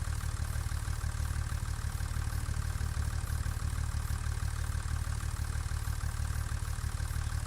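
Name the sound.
tractor engine idling in Farming Simulator video game, small 3650 tractor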